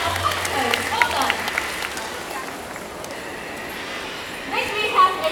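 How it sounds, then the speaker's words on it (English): An amphitheater audience at a bird show gives a round of applause, a broad wash of clapping with a few sharper claps near the end, while a presenter's voice carries over it. "Shall we give them a big round of applause?"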